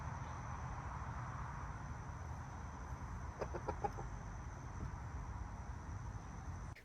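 A rooster gives a short burst of clucking calls in the middle, over a steady low hum and faint insect chirring outdoors.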